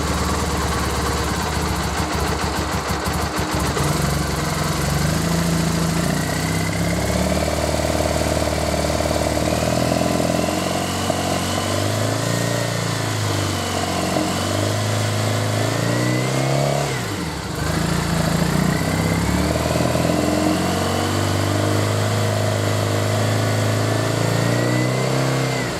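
A Triumph Bonneville motorcycle engine runs steadily close by, idling and then revving up and settling back several times, its pitch rising and falling in smooth sweeps with a brief dip partway through.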